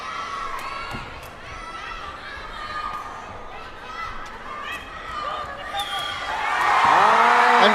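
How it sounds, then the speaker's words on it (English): A crowd roars and cheers at a sepaktakraw World Cup match as a team wins its first point; shouts and whistles rise over arena chatter and grow loudest at the end. "you can hear the roar and cheer"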